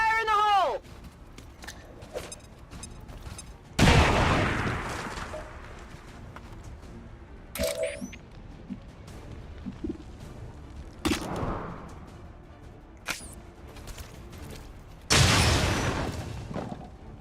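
Grenade blasts and bursts of gunfire in a heavily modded XCOM game: several loud, sharp explosive hits spaced across the stretch, each followed by a short rumbling tail, with quieter battle noise and scattered clicks between them.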